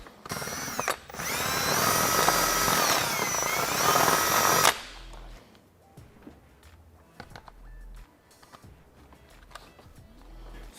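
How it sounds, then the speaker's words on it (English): A power drill bores out a hole for a horn switch on a Can-Am Defender, running as one loud steady whine for about four seconds, then a few short clicks and taps of handling parts. "So once we have a hole drilled for our horn switch"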